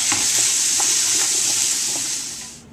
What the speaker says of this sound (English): Okay, the vegetables are finished sauteing.